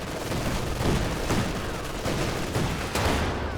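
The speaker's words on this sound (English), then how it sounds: "Our bunker can now accommodate an MG-42. 2-2 firing away." An MG-42 machine gun fires from a bunker in a Company of Heroes 2 battle, a dense, loud, continuous rattle of rapid bursts layered with other gunfire and battlefield noise.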